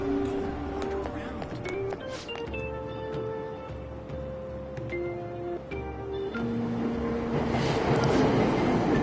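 A subway train in the video game Persona 5 Royal rumbles steadily along under layered electronic chimes and tones, with a low continuous rolling hum throughout.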